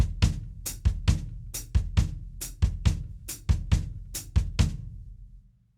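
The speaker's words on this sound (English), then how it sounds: "one that I really like a lot is bass, hi-hat, bass, bass, hi-hat, bass, bass" Bass drum and hi-hat on a drum set play a repeating ostinato, deep kicks alternating with crisp hi-hat hits in a steady, evenly spaced pattern, close and fairly loud, with no voices.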